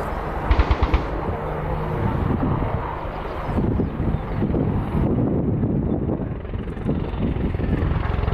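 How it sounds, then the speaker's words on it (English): Rapid bursts of heavy 30mm cannon fire from a gunship helicopter at the RIAT 2015 air show ring out over the constant roar and buffeting wind of the helicopter, the shots thumping in quick clusters. "Gunship, target, RPG team, left wheel, engaged with 30mm cannon."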